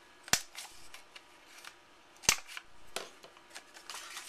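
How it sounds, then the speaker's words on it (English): A handheld corner rounder punch clips the corners of paper card stock, giving two distinct sharp snaps about two seconds apart amid soft, quiet handling rustles, with no talking. "So we're just going to go ahead and round off our corners on the bottom."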